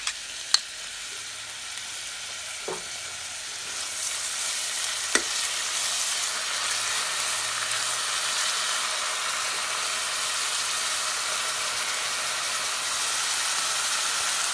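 Onions frying in hot oil in a pan on low to medium heat, a steady bright sizzle and hiss that swells after a few faint clicks and knocks, then runs on evenly and close.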